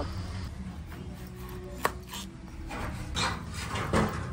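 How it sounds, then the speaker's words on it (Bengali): A knife cuts through a pumpkin (chal kumra) on a board, giving a few separate chops and thuds, one sharp hit then slower heavy cuts, heard close over a faint room hum with no speech. "এখন কুমড়াটা কেটে নেব"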